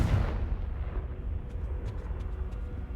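A Confringo blasting spell goes off in Hogwarts Legacy with a loud, rumbling burst that decays into a low roar and sustains throughout, with a few faint higher crackles near the end.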